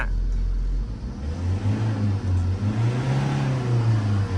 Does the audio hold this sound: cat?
no